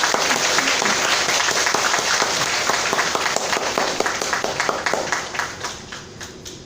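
A hall audience gives warm, dense applause to welcome a lecturer, loud and sustained clapping that thins out and fades toward the end.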